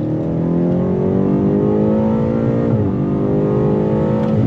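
A 2022 BMW M8 Competition accelerates hard on throttle, its engine note loud, close and continuous, climbing steadily in pitch with a brief dip partway through before rising again.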